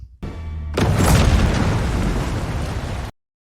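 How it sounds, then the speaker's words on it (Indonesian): A boat blows up in a river with a sudden loud blast that rolls into a long, dense rumble and crackle for about three seconds, preceded by a brief low tonal sound, then cuts to silence. "Perahu pun meledak bersama Krug"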